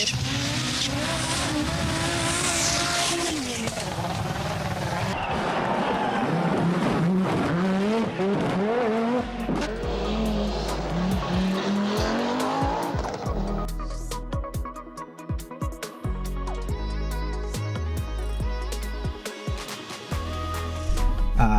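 An Audi Quattro S1 rally race car drives hard, its engine climbing and falling through revs with tire squeal and skidding, then shifting to choppy, rapid engine bursts; loud and continuous with no talk.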